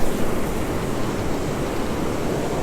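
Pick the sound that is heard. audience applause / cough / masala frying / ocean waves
ocean waves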